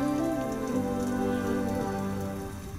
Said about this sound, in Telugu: బా, ఏంటి ఇంత వర్షం?